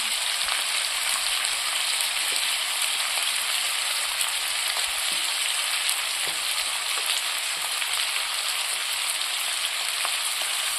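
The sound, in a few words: sautéing food in a pan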